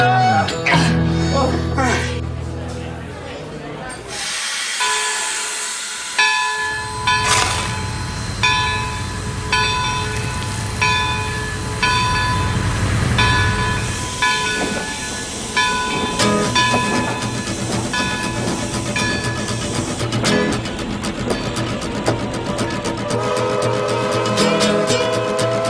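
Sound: train departing

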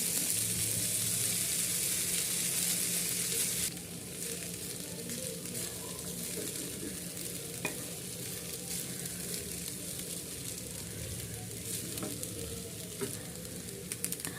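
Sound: egg fried rice being stirred and fried in a pan

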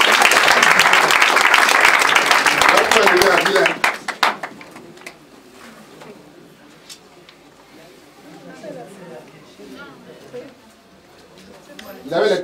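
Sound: church congregation applauding

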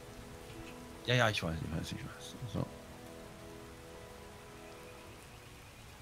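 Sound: rain falling in Starbound video game

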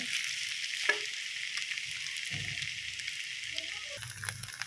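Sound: kurdai being stir-fried in a pan

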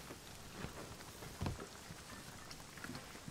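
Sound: rain in the video game Rust

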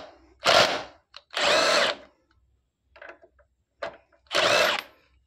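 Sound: Bosch GDS 18V-400 impact wrench loosening bike axle nut

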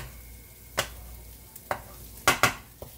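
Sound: eggs cooking and being stirred in a pan

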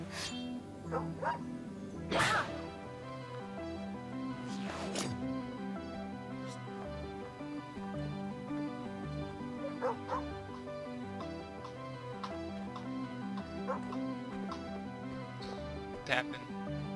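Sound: dog barking in the video game Sword and Sworcery

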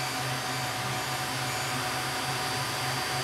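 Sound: Creality Ender 3 Max 3D printer Z gantry moving

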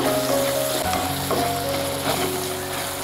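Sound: chopped tomatoes frying on low flame

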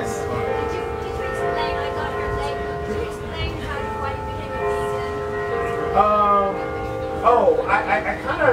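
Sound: bell ringing

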